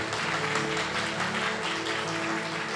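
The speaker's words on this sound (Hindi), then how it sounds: "आइए खुदा के कलाम के लिए जोरदार तालियां बजाएं" A church congregation at a Sunday service applauds steadily, a dense, even wash of clapping that holds at a constant level throughout, with a faint tonal hum of music or room tone underneath.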